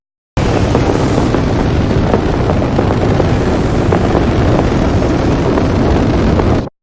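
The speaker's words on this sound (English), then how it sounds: "rocket launch that I purchased on NASA's website" A rough, authentic rocket launch recording: a loud, dense, continuous roar of broadband rumble and crackle that starts suddenly, holds steady for about six seconds and then cuts off sharply.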